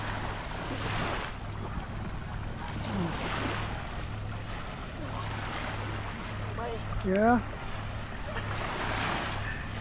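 A small boat rides over waves, with steady wind and water rush, splashing surf and an intermittent low motor hum; a voice speaks briefly and a short squeaky chirp rises near the end.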